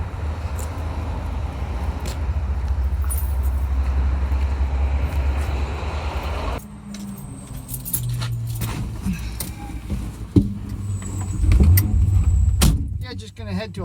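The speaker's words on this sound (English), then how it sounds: "Yep, the E-Type's still running." A Jaguar E-Type drives along with steady engine and road noise, a loud hum that shifts midway with rattles, clunks and jangling keys inside the cabin.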